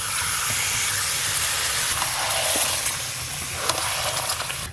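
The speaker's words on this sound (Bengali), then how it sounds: "মশলা ধোয়া জলটা দিয়ে দেবো।" Water used to rinse ground spices is poured into a pot of chicken curry, setting off a loud, steady steam hiss and sizzle that swells and fades slightly over several seconds.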